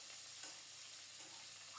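Fish pieces and potatoes fry together in hot oil in a pan, giving a steady, quiet sizzle that runs without pause and with no voices.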